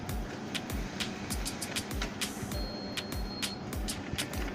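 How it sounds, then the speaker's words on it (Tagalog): Rapid mechanical clicking and whirring of an all-in-one office printer making a photocopy, steady and close, with repeated sharp ticks over a low motor hum. "Try natin yung photocopy para makita nyo na gumagana ang printer na to"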